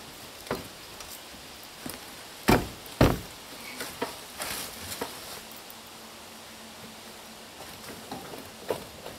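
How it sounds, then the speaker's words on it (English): Rotted wooden boards being knocked loose from a boat frame: scattered hollow knocks and taps, with two sharp loud thuds in quick succession partway through, over a quiet outdoor background with no talk. "Lift it, knock off the boards that are still attached."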